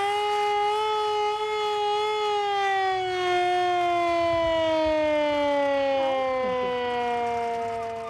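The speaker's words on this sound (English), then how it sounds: "Here is an air raid siren." Hand-cranked air raid siren at a Blitz-era re-enactment, one long loud wailing tone that slowly falls in pitch and fades slightly at the end, with no talk over it.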